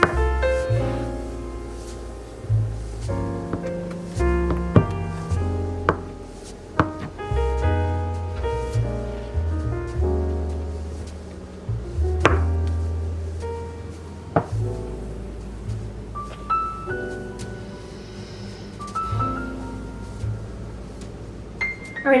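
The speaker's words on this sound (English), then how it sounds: "I'm going to chop it up because it's easier to chop whenever it's cold." A knife chops through two cold bars of cream cheese on a cutting board in a kitchen, a series of sharp irregular knocks and taps close by, with occasional clinks of utensils between cuts.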